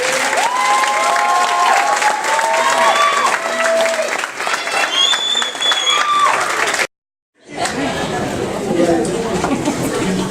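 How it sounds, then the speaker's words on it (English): Audience applause at an 8th grade graduation ceremony, loud sustained clapping and crowd chatter with a voice speaking over it, briefly cut to silence before the clapping resumes. "So let's give them all a big round of applause,"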